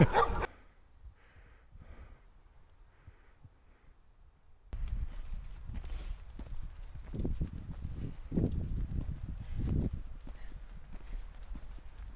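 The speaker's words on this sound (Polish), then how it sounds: "Pieski, czemu szczekacie?" Dogs barking along a hardened country road, a few faint distant barks at first, then closer, louder irregular barking bursts mixed with footsteps and outdoor rustle.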